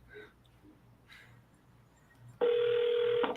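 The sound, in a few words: telephone dialing and ringing tones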